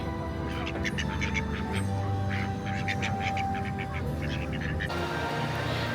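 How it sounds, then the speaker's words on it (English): Ducks quack in a busy outdoor area at Epcot, Disney World in Florida. Short nasal calls come in scattered bursts over a steady crowd murmur and background hum. "Look at the Disney ducks."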